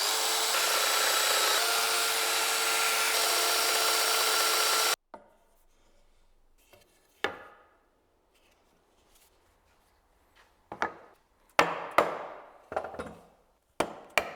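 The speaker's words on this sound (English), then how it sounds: "But that doesn't mean I couldn't use my domino to at least hog out the waste for each mortise." A domino joiner hogs out mortises in wood: a loud, steady motor whine with cutting noise for about five seconds, then quiet handling, with a few sharp knocks and short bursts of cutting near the end.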